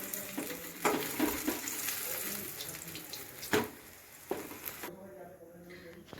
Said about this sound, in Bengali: এমনি তেলের ওপর হালকা করে ভেজে নিতে হবে বেগুনটাকে।